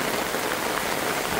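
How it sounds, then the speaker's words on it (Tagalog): Heavy rain pours down hard, a loud, dense, unbroken hiss of water striking surfaces close by, with no talking. "Ang lakas lalo ng ulan!"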